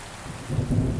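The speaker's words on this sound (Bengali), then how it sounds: "বাইরে তখনও ভালোই বৃষ্টি হচ্ছে বাতাসের শো শো শব্দে দোকানের টিনের চালা কেঁপে ওঠে" Heavy rain falls at night with a low rumble of thunder building beneath a steady wash of noise, brief and fairly loud, with no voices.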